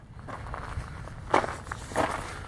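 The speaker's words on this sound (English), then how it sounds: "Walking around a little gravel here, so you hear that" Footsteps crunch over gravel at close range, two heavier scuffs standing out against a low background hum.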